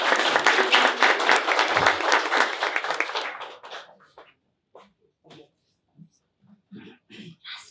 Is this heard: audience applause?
yes